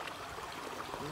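River water flows steadily in a broad, continuous rush at a fairly low level, with no break or change across the short stretch.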